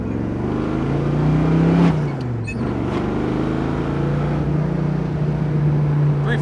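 A 1980 Chevrolet Camaro Z28 with a 350 V8 revs up loudly from inside, rising in pitch, dropping briefly as it shifts, then pulling hard again in a steady drone.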